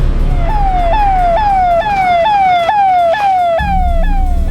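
An ambulance siren in a TV crime drama scene wails loudly and close in a rapid repeating rise-and-drop cycle, over a low engine rumble, with no voices.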